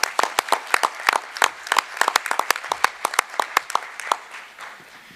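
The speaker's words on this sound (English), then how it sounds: "Let's give them one more round of applause." Audience at a Coatesville school board meeting gives a round of applause: a thin scattering of distinct hand claps from a small group, irregular and moderately close, with no talking.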